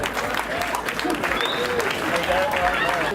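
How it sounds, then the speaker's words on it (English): A crowd applauds amid cheering and voices, the clapping dense and sustained throughout. "Give him a round of applause."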